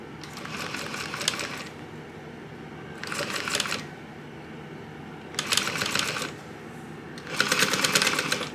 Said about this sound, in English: we're gonna stitch this at 3/8 of an inch seam allowance